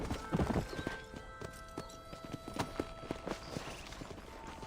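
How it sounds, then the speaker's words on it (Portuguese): Horse hooves in the video game Red Dead Redemption, a quick, irregular clip-clop of a running horse at moderate distance, with faint tonal game sounds in the background. "os cavalos aqui correm"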